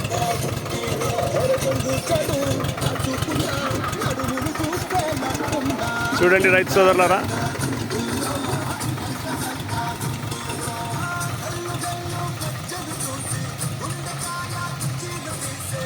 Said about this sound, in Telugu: seven four XM Swaraj tractor ద్వారా మేము సేద్యం చేసుకుంటున్నాము